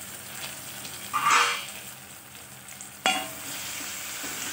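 Onion, tomato and leftover masala stuffing for stuffed capsicum sauté in oil in a pan, making a steady close sizzle broken by two louder bursts of stirring and scraping.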